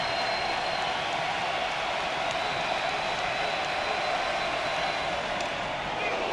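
A large crowd at an Oklahoma vs LSU college baseball game roars in a steady, dense wall of cheering and applause that holds for the whole stretch.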